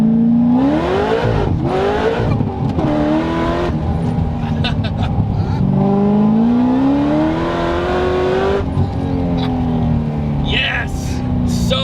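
A supercharged V8 Corvette ZR1 accelerates hard, its loud engine note climbing through the gears with a brief shift dip, close and dominant, while a person talks excitedly over it.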